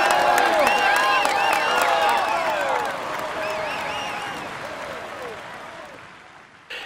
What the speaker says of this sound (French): Il est dans une forme étincelante et vous pouvez l'applaudir bien fort.